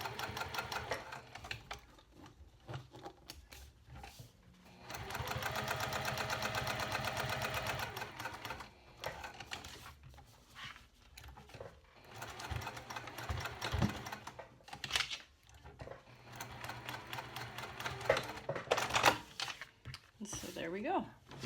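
A home sewing machine back-stitches over the ends of a zipper while sewing a tall wallet, its steady mechanical whir running in a sustained burst between quieter handling noises and brief talk.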